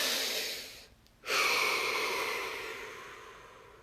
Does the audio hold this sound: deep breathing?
yes